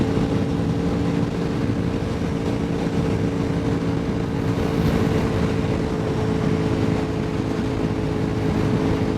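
A Honda VFR1200F motorcycle ridden at night, its engine a steady, loud drone blended with rushing wind noise, unchanging throughout.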